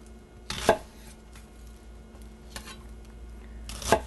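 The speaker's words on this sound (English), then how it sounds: "I can dice that onion without having to worry about cutting my finger." Two sharp knife chops dice an onion on a cutting board, spaced a few seconds apart against a quiet kitchen background.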